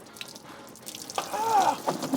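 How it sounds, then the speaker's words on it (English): Coolant drains out of a Ram 1500 pickup truck, a close splashing, trickling stream of liquid that swells louder partway through, with a brief whistling tone over the flow. "I think we'll start with draining the coolant."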